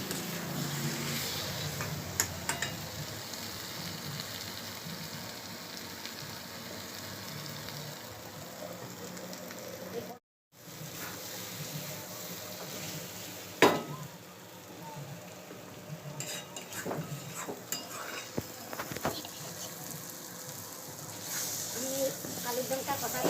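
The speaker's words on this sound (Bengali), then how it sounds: "এই আলু কষছি" Potatoes sautéing in a pan for Bengali aloo dum, a steady broad sizzle and stirring scrape with occasional sharper clatters, a brief drop to near silence partway through, and faint talk at times.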